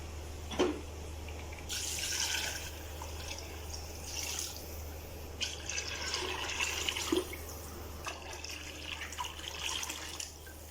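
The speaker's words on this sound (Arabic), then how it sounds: "هسه راح ادير المي." Tap water runs steadily into a pot of chickpeas in a home kitchen, a close, continuous splashing hiss that swells and eases, with a few drips and no talk.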